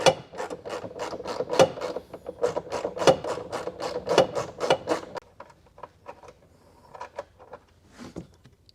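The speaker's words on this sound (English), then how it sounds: "I'm going to try to get my socket on it and get that removed" A socket ratchet works a nut tucked under the rear bumper of a 2024 BMW X5, making a quick, regular string of close, dry clicks that slows and thins into scattered clicks near the end.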